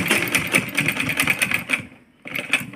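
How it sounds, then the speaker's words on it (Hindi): A sewing machine stitching a chunni runs in a fast, close mechanical rattle, pauses briefly, then starts up again. "डबल से लग करके सिलाई मार देंगे"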